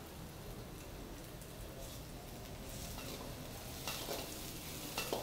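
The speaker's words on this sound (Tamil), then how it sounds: "வெங்காயம் இப்போ நல்லா கொஞ்சம் கலர் கொஞ்சம் மாறி கொஞ்சம் நல்லா ஃப்ரை ஆகிட்டு இருக்கேங்க" Onions for dragon chicken fry in a pan, a soft, rain-like sizzle under steady stirring, with scraping strokes growing louder toward the end.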